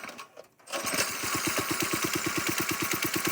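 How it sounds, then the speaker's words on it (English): Small single-cylinder go-kart engine fitted with an oversized rear sprocket, idling on a choke after starting, a fast even putter of close, distinct firing pulses that settles into a steady loud rhythm. "You're just idling right now."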